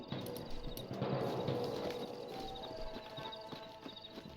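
Horse hooves clip-clop in a steady walking rhythm in a video game, fairly quiet, with faint background ambience and no talking.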